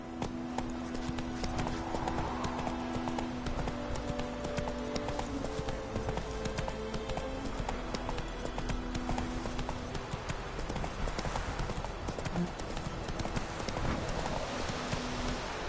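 Horse hooves clatter in a fast, continuous galloping rhythm in the Witcher 3 video game, steady and fairly quiet, with no one talking.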